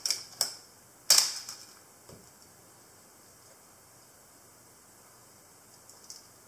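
A Canon Pellix QL film camera's shutter fires at a one-second speed, giving sharp mechanical clicks near the start, a louder snap at about one second and a faint click near the end, close and quiet.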